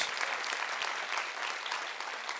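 Church congregation applauding during a sermon, a steady, even burst of many hands clapping together, moderately loud and continuous with no voices over it.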